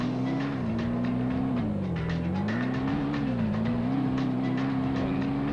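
A rally car in a racing video game drives over asphalt with a steady engine drone whose pitch rises and falls gently through the run, with faint tyre and gravel noise and no talk.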